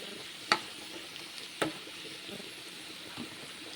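Masala sautés in a pan for roasted-coconut sambar, a low steady sizzle punctuated by two distinct clacks of a spoon stirring against the pan and a fainter third.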